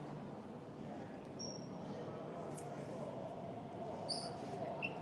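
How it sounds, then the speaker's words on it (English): A steady low rumble of a subway train moving through a station in Guangzhou, China, with a few brief, high metallic squeals toward the end. "The train is coming"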